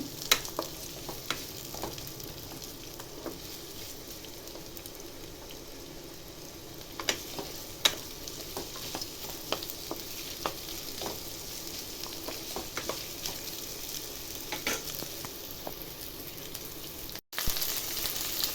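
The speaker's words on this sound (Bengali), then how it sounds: "এর উপরে দেবো আমি কুচনো পেঁয়াজ দিয়ে আমি এক মিনিটের মতো নাড়াচাড়া করে সামান্য একটু ভেজে নেব" Chopped onions stirred and frying in a pan for a shahi paneer base, a steady low sizzle carrying scattered scraping clicks of the spoon throughout, with no voices.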